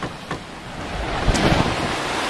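Open-ocean waves and wind around a cruising yacht sailing at sea between the Azores and France, a steady broadband wash with gusting wind noise on the microphone and a slightly louder surge of water midway.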